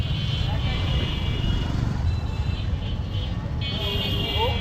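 Congested road traffic creeps along in Kushtia near construction work, a steady close rumble of engines with passing vehicle noise and a brief horn-like tone near the end.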